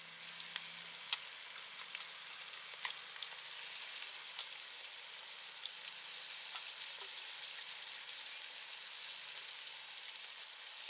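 Goat intestines sizzle steadily in a hot pan with chilli powder for kudal kulambu, a continuous close frying hiss with small crackles throughout and no talk.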